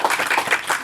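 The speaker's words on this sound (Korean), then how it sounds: "우리 한번 격려의 박수 한번 합시다" A church congregation claps briefly, many hands together in a short, fairly loud burst of applause with no talk over it.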